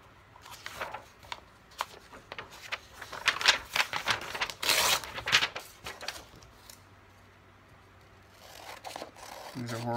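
Poor-quality scissors snipping through paper strips in a series of quick, close crisp cuts and rustles, clustered in bursts with quieter paper handling between them.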